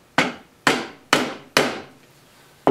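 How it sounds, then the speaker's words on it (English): A hammer strikes a center punch into wood at a turning bench, five sharp, close knocks at a steady pace, each with a brief ringing decay, with a short pause before the last. "put my center punch there."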